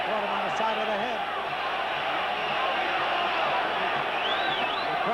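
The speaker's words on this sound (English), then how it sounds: "The crowd here is yelling for Jorge Ahumada." Boxing arena crowd at a Victor Galindez versus Jorge Ahumada fight, a steady dense roar of yelling and whoops from many people that fills the whole stretch, with a commentator's voice running over it.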